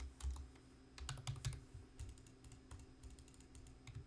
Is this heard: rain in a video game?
no